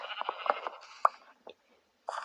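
Several short sheep bleats from a video game, with a synthetic quality, separated by brief gaps, moderately loud and without speech.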